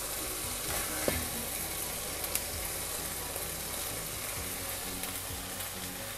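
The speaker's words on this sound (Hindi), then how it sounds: "कीमे को हमने भून लिया है" Minced meat fries in a pan for a Greek pastitsio, a dense continuous sizzle with faint stirring scrapes and taps, steady and close with no talk.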